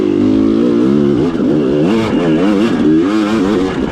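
Off-road motorcycle spinning its rear wheel on a side hill, loud continuous engine drone that rises and falls in rapid wavering revs as the throttle is worked, close up with no voices.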